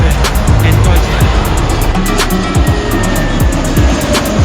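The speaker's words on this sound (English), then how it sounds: "a Lufthansa LH2474 Airbus A320neo coming in from München in Deutschland." A Lufthansa Airbus A320neo lands at Heathrow with a loud, continuous jet roar and rushing wind noise, heard steadily throughout without a break.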